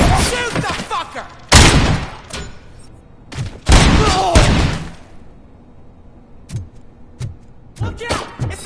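Gunfire in a Robocop action shooter, loud heavy shots in short bursts and single blasts with quieter impacts between them, interrupted by brief lulls, with shouting voices mixed in.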